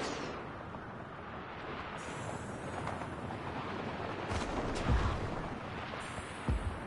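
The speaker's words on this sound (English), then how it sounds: "Oh my god, they're shooting so many missiles at me." Missiles being fired in the video game Just Cause 3, heard as a dense, continuous rumble of launches and blasts with a few sharper thumps standing out, with no talking.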